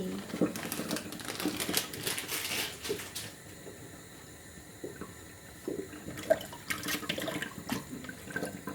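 Water-mimosa vegetables lifted out of a pot of water in a kitchen, with splashing, dripping and sloshing water sounds that come and go, and someone talking throughout.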